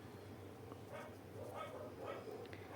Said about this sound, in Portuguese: a cachorra da vizinha ali começou a latir